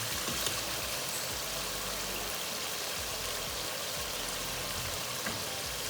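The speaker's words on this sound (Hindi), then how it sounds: "अभी ना इसमें पानी डाल लेना।" Water poured steadily into a pot of chicken biryani after the masala has been fried, a continuous close splashing wash with no speech over it.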